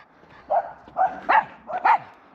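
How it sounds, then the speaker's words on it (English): A dog barks at close range in a Russian housing settlement, giving about five sharp yapping barks in an uneven burst that stands out against a quiet background. "I'm being attacked by a dog."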